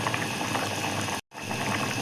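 Tamarind kara kuzhambu curry boils steadily in a pot, a dense continuous bubbling and popping that fills the clip, broken once by a very brief silent gap near the middle.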